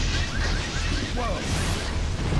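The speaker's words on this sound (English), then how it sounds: "And more explosions and things falling." Explosions and debris crashing down in the Infamous video game, a dense continuous roar of blasts and falling rubble with scattered pops and whooshes, loud and sustained throughout.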